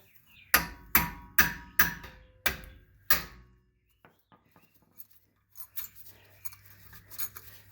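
Six sharp, evenly spaced hammer blows ring out on a crusty brake rotor of a BMW 750iL E32, close and loud, followed by quieter scattered clinks and rattles of metal parts.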